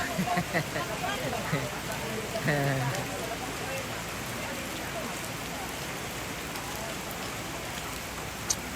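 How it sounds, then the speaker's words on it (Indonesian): Steady, dense rain pours down in a continuous hiss at a funeral service at a Toraja tongkonan house, with a voice briefly speaking Indonesian near the start. "Makin deras lagi hujan"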